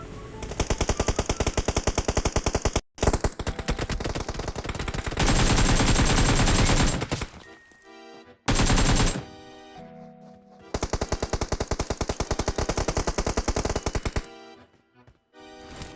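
Automatic gunfire from the PUBG video game comes in long rapid bursts, loud and sustained, broken by brief pauses and a few shorter volleys, with no talking over it.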